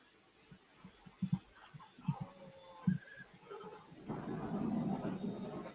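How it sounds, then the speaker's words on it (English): A horse in a video game whinnies in a few short bursts amid quiet game ambience, followed by a louder, sustained rumbling noise near the end. "I'm going to feed my horse."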